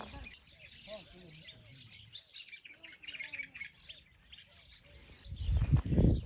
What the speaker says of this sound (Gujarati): કાળી ચકલીઓ ને ઝીણા ઝીણા પક્ષીઓ બધા ઘણા બધા છે